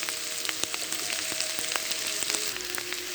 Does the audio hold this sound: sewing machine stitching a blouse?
no